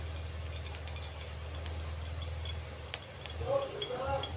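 Cooking oil goes into a hot pan for sautéing onion and garlic, giving a soft crackling sizzle with clinks of a utensil against the pan. A faint low hum runs underneath.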